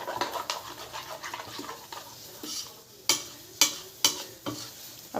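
Fish roe being mixed by hand with coriander powder and a little garam masala: soft, wet squishing strokes up close, with a few sharp clicks near the end.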